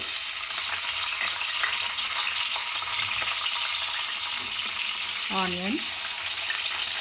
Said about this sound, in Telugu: కలర్ వచ్చే వరకు ఫ్రై చేసుకుందాం